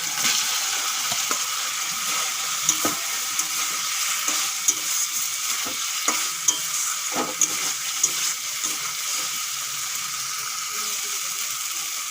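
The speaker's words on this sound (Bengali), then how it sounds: "মশলার সঙ্গে আলুও ভালো করে কষিয়ে নিয়েছি" Fried potatoes being stir-fried with spice masala for a Bengali fish and potato curry, a loud continuous hiss of hot oil with repeated scraping strokes and knocks of the spatula against the pan.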